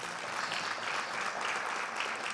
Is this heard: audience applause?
yes